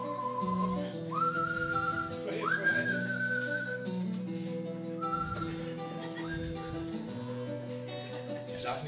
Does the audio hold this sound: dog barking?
no